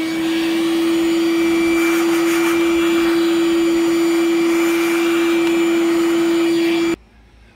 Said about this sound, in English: I want to use a vacuum cleaner